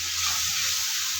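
Spice paste with chili powder frying in oil for a rohu fish curry gives off a steady, loud sizzle with a continuous bright hiss that holds unbroken throughout.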